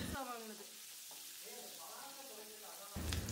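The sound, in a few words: shallots sautéing in coconut oil with mustard, curry leaves, chilies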